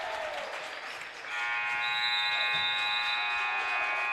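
At a high school basketball game, Trinity Lutheran against Cascade Christian, the end-of-quarter buzzer blares in a loud sustained electronic tone over crowd noise and cheering in the gym.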